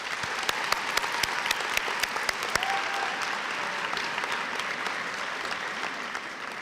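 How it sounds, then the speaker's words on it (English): Sustained applause from an audience at an adult high school and GED graduation ceremony, dense steady clapping with a few sharper nearby claps standing out, continuing evenly without talk. "please join me in giving them a big round of applause"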